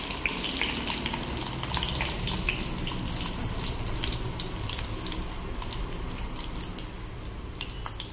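Tempering spices and curry leaves sizzle and crackle in about four spoons of hot oil while making coconut dal, a steady close frying hiss with scattered pops and no talking.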